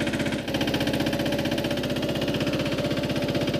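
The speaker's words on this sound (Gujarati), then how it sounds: "તો આપણે આ ટીલટેક ટ્રેક્ટર છે 15 HP-નું, 2022નું મોડલ છે, અને સિંગલ પિસ્ટન" A 2022 Tiltek 15 HP single-piston tractor engine runs steadily close by, its fast, even chugging pulse holding constant throughout with a brief dip near the start and no voices.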